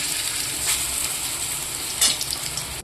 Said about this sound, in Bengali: এবার আমি বড়াগুলোকে উল্টিয়ে দিচ্ছি